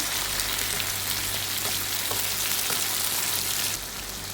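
Chopped tomatoes sizzling and frying in a pan while cooking down for a dosa and idli chutney, a close, steady crackling hiss with a few soft stirring taps, quieting slightly near the end.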